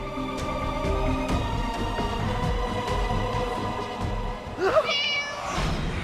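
A cat gives a short, clear meow near the end, heard over a steady bed of background music and indoor ambience in a Hindi TV drama scene.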